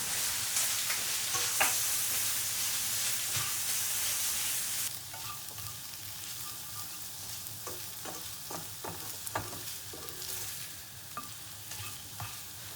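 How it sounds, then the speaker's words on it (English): Tofu frying in a pan for shrimp pad Thai: a loud, bright sizzle that eases partway through into quieter crackling, broken by scattered scrapes and taps of stirring, close by, with no talking. "Put the tofu and fry together."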